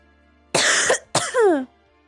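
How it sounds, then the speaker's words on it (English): Two harsh coughs from one person in quick succession, loud and close, the second trailing into a raspy, voiced tail, with no talk around them. "I'm sorry, I'm coughing so much."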